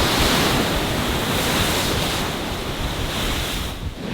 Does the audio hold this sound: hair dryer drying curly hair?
no